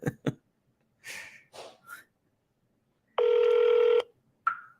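An outgoing phone call's ringback tone, a single steady electronic ring of under a second, heard close and clear, followed by a brief tone, with short breaths and rustles before it.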